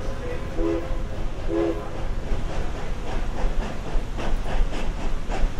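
A train pulls out of a station in a suspense story, with two short horn blasts early on over a steady rumbling, clattering rail noise that builds slightly as it departs.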